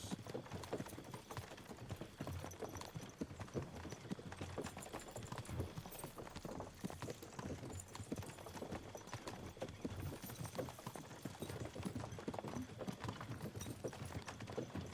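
Horses' hooves clip-clop steadily and continuously in a Kingdom Come: Deliverance II scene, a dense, busy rhythm of hoof strikes with some background noise and faint ambient sound throughout.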